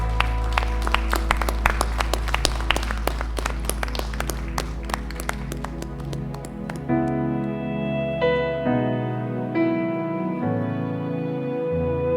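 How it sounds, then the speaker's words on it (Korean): A church congregation bursts into loud, dense applause at a Wednesday evening worship service at Yeouido Baptist Church, the clapping running for several seconds before worship music with sustained tones takes over. "우리 하나님께 영광의 박수 올려드리겠습니다"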